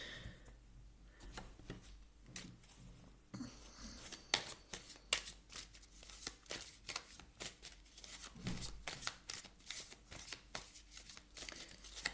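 A deck of oracle cards being shuffled close by, with rapid rhythmic riffling and flicking bursts that run steadily through the whole stretch, fairly faint and with no talk over it.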